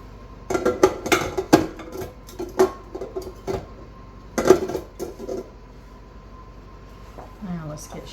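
Pecans being tossed in a sugar and cinnamon mixture in a bowl, giving irregular clinks and scraping knocks of a utensil against the dish, with a voice talking in between the bursts.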